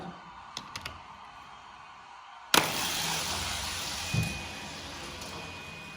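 After a few faint clicks, a sudden sharp release is followed by a rolling whir as diecast toy cars, including a '68 Plymouth Barracuda and an '86 Monte Carlo, race down a drag track, with a light clack partway through.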